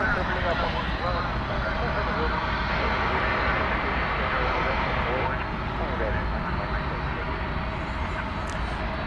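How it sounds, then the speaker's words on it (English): A UPS Boeing 767-300 freighter being pushed back at an airport, heard as a continuous loud engine roar and rumble that stays steady throughout, with broad airport noise around it. "we're going to show you the tail now of a 767 UPS aircraft, which is backing up on its way to Louisville"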